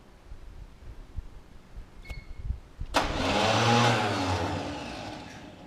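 A 1981 Chevy Scottsdale K10 pickup truck engine cranks and catches at about three seconds, then revs up loudly and settles into a steady run. Faint background noise comes before it, and there is no talk.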